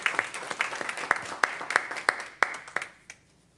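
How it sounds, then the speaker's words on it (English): Scattered audience applause at a school board meeting. A modest number of distinct, spaced claps sound at close to moderate distance and die away after about three seconds. "let's please give them a round of applause."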